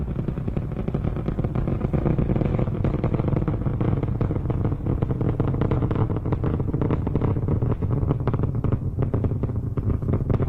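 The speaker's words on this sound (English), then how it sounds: "Endeavour's engines have now throttled down as the orbiter prepares to pass through the area of maximum dynamic pressure on the vehicle." Space Shuttle Endeavour's engines during launch ascent from Launch Complex 39B, a loud, continuous broadband roar with crackling texture that stays steady throughout, without any voices.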